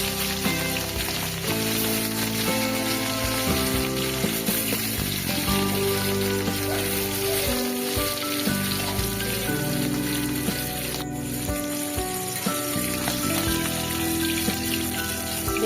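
Rohu fish pieces fry in a generous pool of hot mustard oil in a kadai, giving a steady, continuous crackling sizzle throughout, layered with a sustained tonal background.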